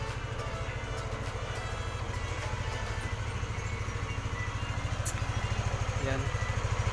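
A Yamaha Aerox 155 scooter engine idles steadily up close after a fuel filter replacement, giving an even, low, rapid pulsing that holds at constant loudness throughout.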